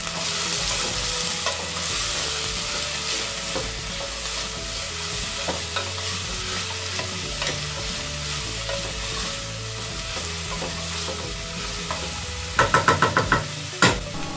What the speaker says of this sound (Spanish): Les daremos unas vueltas para que se vayan cocinando por igual.